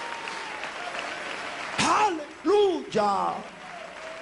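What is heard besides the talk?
congregation applauding in praise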